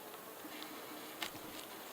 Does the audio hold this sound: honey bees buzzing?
yes